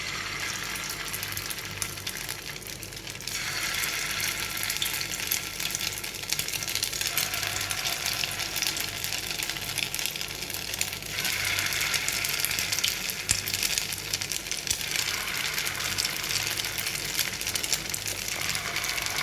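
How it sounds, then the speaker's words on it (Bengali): Soft paneer koftas frying in very hot oil, a steady broadband sizzle with bubbling surges that swell and ease in waves, fairly quiet and continuous with no talking. "এবার আমি কোপ্তাগুলো সব ভেজে নেব।"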